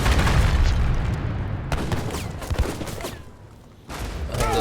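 Cannon fire and battle booms in Age of Empires III, loud and continuous, with rapid overlapping blasts and rumbling explosions that barely let up, with no speech.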